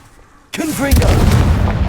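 A Confringo fire spell blast in Hogwarts Legacy erupts suddenly out of quiet into a loud, sustained fiery roar and crackle, with a shouted voice mixed in.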